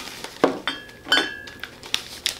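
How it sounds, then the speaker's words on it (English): Old glass Mountain Dew bottles clink against each other in a few bright, sharp taps with one ringing tone, close by and fairly quiet, without talk. "That sound that you heard, the clinking of the glass, wasn't beer."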